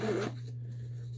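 A zipper on the front pocket of a Coach Horse and Carriage handbag gives one short, quiet rasping pull close up, then a faint steady hum continues alone.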